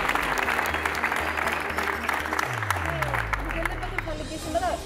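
Congregation applause at a church service, sustained clapping from a crowd with some murmuring and cheering, while a low voice speaks over it near the end.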